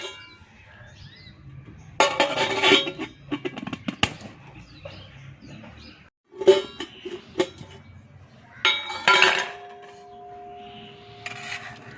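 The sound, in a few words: vessel of soaked rice being covered with a lid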